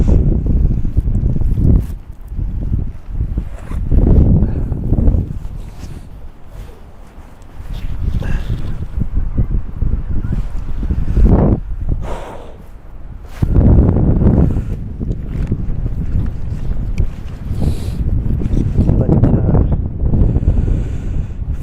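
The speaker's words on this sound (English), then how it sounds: "It's the wind, and the wind chill is starting to take its toll." Cold winter wind at Woodbine Beach in Toronto, at about minus 10 degrees Celsius, roars steadily against the microphone in loud buffeting gusts, with waves faintly underneath.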